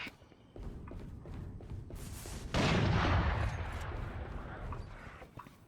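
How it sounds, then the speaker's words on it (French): A burst of gunfire in a tactical shooter match, a sharp loud volley followed by decaying rumble and scattered thuds, with faint footsteps around it. "Super, je viens de me prendre une rafale dans la gueule."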